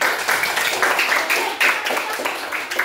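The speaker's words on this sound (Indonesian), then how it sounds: "Berikan aplaus dulu untuk kelas ini." A school class applauds together during an open lesson on basic artificial intelligence concepts, a steady, close patter of many hands clapping for a few seconds with faint voices mixed in.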